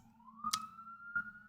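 An emergency vehicle siren wails faintly from outside, a single thin tone rising slowly in pitch, with a couple of soft knocks nearby.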